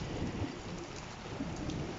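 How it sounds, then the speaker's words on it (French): A violent thunderstorm lashes a home with heavy rain and strong wind, the wind strong enough to knock over a chair. Dense, steady roar of downpour with low rumbling thunder, continuous and close, no voices. "Vous entendez l'orage, la pluie et tout, c'est le carnage."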